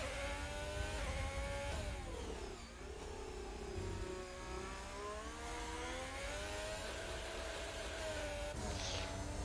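An F1 car engine running behind the safety car in F1 2020 at the Brazilian GP, a continuous loud whining drone that rises and falls in pitch as the throttle shifts, heard on board with no pauses.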